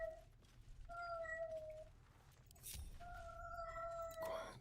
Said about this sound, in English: my cat is doing cat noises